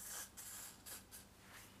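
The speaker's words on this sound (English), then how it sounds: "I'm now going to take the Got to Be again and spray the front of my hair." Got2b hair spray sprayed in several short bursts onto the front of a lace wig's hair, a close, loud hiss pulsing with brief pauses between sprays.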